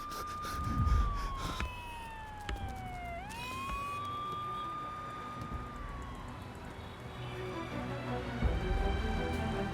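An ambulance siren wails in a Kannada film scene, its tone sweeping down and back up in long glides with a second siren layered briefly, heard at moderate distance over a busy street background.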